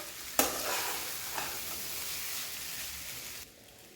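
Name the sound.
stirring paneer pulao mixture in a pan on low flame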